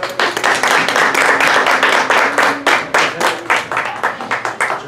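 An audience welcomes a speaker at a book presentation with loud, close, fairly sparse clapping. Individual claps stand out in a rough rhythm, then thin into a few last claps toward the end.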